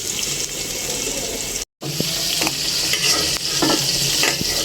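Prawns fry in a pan, a close, busy sizzle with spatula scrapes and clinks, cut by a brief silent gap before the crackling resumes.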